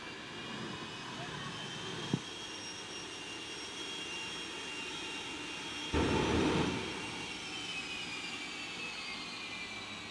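American Thunder jet truck engine roaring at a nighttime motorsport show, a steady loud jet whine with a brief burst swelling louder near the middle, a crowd murmuring faintly beneath.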